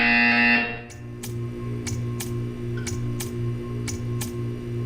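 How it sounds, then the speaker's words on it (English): A loud buzzer tone from Portal 2 cuts off, then sharp electronic clicks tick at regular intervals over a steady low hum, like a game timer counting down. "You will hear a buzzer."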